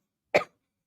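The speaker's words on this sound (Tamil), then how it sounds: "இன்னைக்கு ரொம்ப இருமுறேன்" A single short, sharp cough from a woman teaching a mathematics class, close and isolated against silence.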